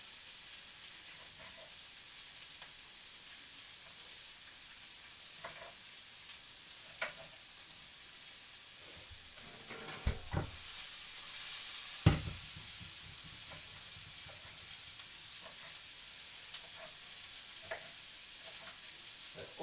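Onions and peppers fry in a pan with a soft, steady sizzle, broken by occasional scrapes and knocks of a utensil stirring, quiet and without talk.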